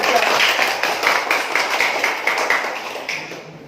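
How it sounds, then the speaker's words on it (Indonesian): Classroom of students clapping for a student group after a presentation, a fairly close run of quick, somewhat rhythmic claps that gradually thins out and fades. "Tepuk tangan buat kelompok 3"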